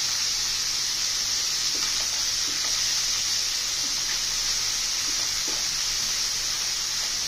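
Bele fish and potatoes fry in a pan of hot oil, giving a steady, loud broadband sizzle that holds without a break, with faint clinks and stirring now and then and nobody talking.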